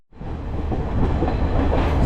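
Kandy to Ella train in Sri Lanka rolling steadily along the rails, a loud, continuous rumble with rattling carriage noise and faint clickety-clack, building up over the first moments and holding steady throughout.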